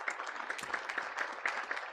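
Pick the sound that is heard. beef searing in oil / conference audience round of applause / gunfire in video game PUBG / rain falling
conference audience round of applause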